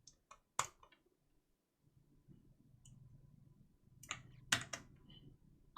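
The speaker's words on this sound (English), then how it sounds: "why am I typing this again?" Sparse computer keyboard keystrokes in a few quick clusters separated by quiet gaps, close-miked, with a low steady hum underneath.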